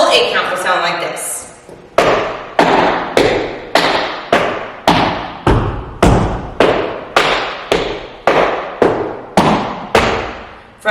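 Tap shoes strike a hard floor in an eight-count combo of shuffle, scuffle, flap and step, starting with quick brushing scrapes, then moving into a steady run of sharp, evenly spaced clicks and thuds, close and loud.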